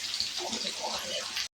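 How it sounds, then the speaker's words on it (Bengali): Pieces of hilsa fish shallow-frying in hot oil give a loud, steady, close sizzle that runs unbroken for over a second before cutting off abruptly. "এই ইলিশ মাছগুলো আমরা এবার সুন্দর করে ভেজে নিচ্ছি"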